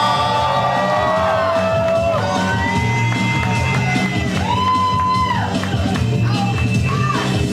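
A live poetry slam audience in Houston cheering loudly, a dense crowd roar with whoops and yells riding over steady clapping and noise for several seconds.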